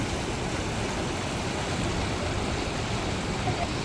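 Stream water flows through a forest picnic spot with a steady, moderate rushing wash, continuous and unbroken, with no talk over it.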